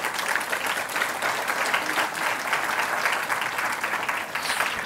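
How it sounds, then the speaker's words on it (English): Audience applause fills a discussion event on an unusual career path from journalist to fund manager, a steady dense wash of many hands clapping at even loudness throughout, with no speech over it. "Can we give her a round of applause?"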